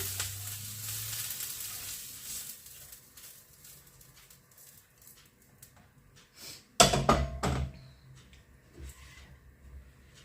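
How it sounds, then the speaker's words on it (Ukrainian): Chopped onion tipped into a hot frying pan for Georgian-style potatoes gives a sudden loud burst of sizzling and clatter after a quiet stretch, then settles into a faint steady fry. "придвигаємо сковорідку, цибульку теж висипаємо"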